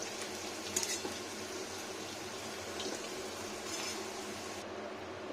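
Potato pieces shallow-frying in hot oil give a steady, close sizzle with soft crackles and brief bubbling spikes, continuing alone without voices.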